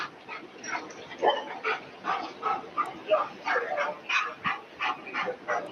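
A police dog barks and yelps in rapid, rhythmic bursts at a steady pace during a tense police standoff around a car, the sound fairly close and somewhat muffled.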